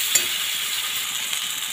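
Masala paste with bay leaves, ginger, garlic, poppy seed and melon seed sizzling in a pan as it is stirred, a steady close frying hiss with faint scraping.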